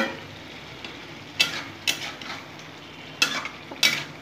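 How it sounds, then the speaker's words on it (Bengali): Prawns are stirred in an oily spice masala in a pan, with a soft steady sizzle under four sharp metallic scrapes of a spatula against the pan. "এখন আমি চিংড়ি মাছটা দিয়ে একটু কষিয়ে নেব"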